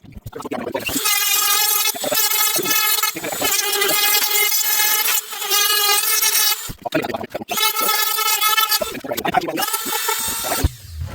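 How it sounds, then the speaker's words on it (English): A Dremel rotary tool cuts out a body shell for a Kyosho nitro RC car, a loud high-pitched whine with rich harmonics that holds steady for long stretches, broken by brief dips and restarts. "we're gonna Dremel that out, make it nice and neat"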